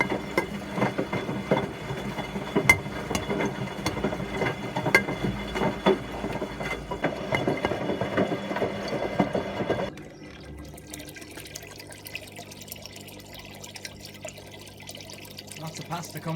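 Washing machine rinsing pasta soup, with water and pasta pieces splashing and churning inside the steel drum, busy and fairly loud, then dropping abruptly to a quieter hum with faint trickling after about ten seconds.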